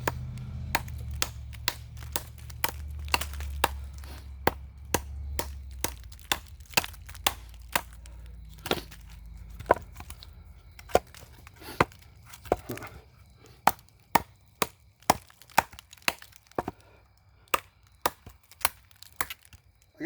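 Holtzman's Gorilla bushwhacker chopping with a long series of loud, sharp, irregular blows, close up and hitting steadily over a low rumbling background, with no talking.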